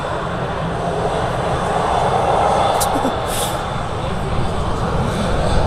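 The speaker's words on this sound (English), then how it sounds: "Ryanair special livery arrival." A Ryanair jet in special livery roars steadily as it arrives at Manchester Airport, a broad, sustained engine rumble heard from a distance while people talk over it.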